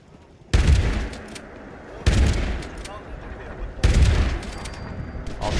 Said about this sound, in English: My turret might take care of this.